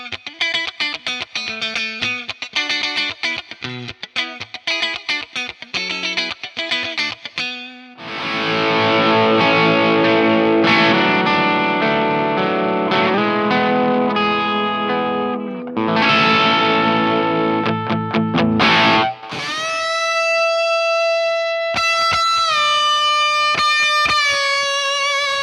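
An electric guitar plays through an Underdog Chuck pedalboard amp with a tube preamp and built-in effects: choppy distorted riffing, then long sustained chorus-washed chords, then sparser clean notes with ringing echoes, loud and close.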